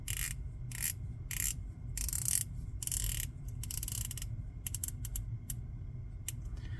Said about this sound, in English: 120 click bezel here.